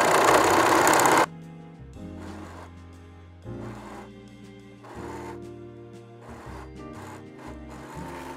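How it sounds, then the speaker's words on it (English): A serger overlock machine stitches fabric with a fast mechanical whirring that comes in short bursts and pauses, after a loud opening burst of noise. The machine runs close to the mic and no voices are heard. "So let's go and serge."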